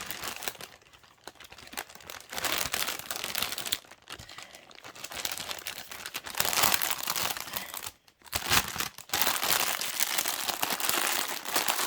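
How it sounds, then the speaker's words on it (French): A cross-stitch kit being slid back into its envelope, long bursts of loud crinkling plastic and paper rustle with brief pauses, close and handled throughout, with no speech. "On va remettre ça dans l'enveloppe ici."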